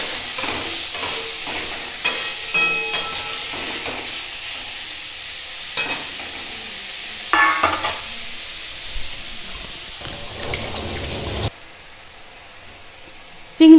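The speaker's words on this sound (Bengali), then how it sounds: "খুব হালকা করেই চিংড়ি মাছটা ভাজতে হবে" Shrimp frying lightly in a wok, a soft hiss of oil with intermittent scraping and stirring clatters, steady for about eleven seconds before the sizzle drops away to near quiet.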